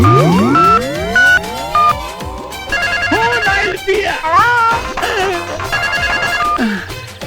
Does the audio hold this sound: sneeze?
no